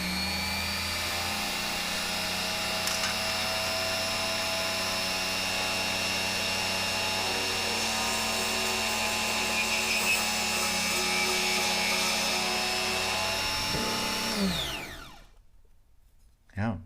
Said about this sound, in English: let me go ahead and try and drill a circuit board.